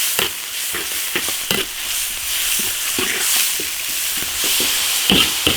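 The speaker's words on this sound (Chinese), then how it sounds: "下鸭肠子爆炒" Duck intestines stir-fried over high heat in an iron wok, a loud continuous sizzle broken by repeated sharp clangs and scrapes of the spatula tossing the food.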